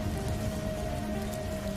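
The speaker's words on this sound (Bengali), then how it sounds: "চারিদিক জুড়ে মুষলধারে বৃষ্টি, আকাশে একের পর এক বিকট বাজ" Heavy downpour drumming steadily and loudly on surfaces, a dense unbroken wash of rain with no voices and no thunder.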